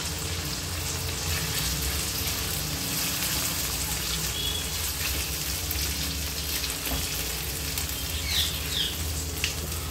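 Ginger garlic paste sizzles in a pan with fried liver and onions, a continuous dense hiss with a low hum underneath and faint scattered spatters, no voices.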